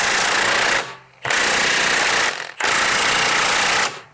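A power impact tool hammers at a seized axle bolt in a Volkswagen wheel hub, three loud sustained rattling bursts close up with brief pauses between.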